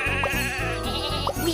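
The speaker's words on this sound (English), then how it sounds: "Sheep have wandered onto the tracks." Cartoon sheep bleating in a kids' train video game as they wander onto the tracks, a few short wavering bleats over a steady, thumping musical backing, close and bright.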